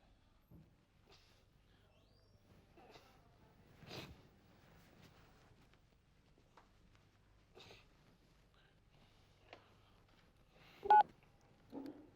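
Telephone keypad tones beep one at a time with irregular pauses, faint and close, during an indoor scene of a Hindi crime drama. A louder double tone comes near the end.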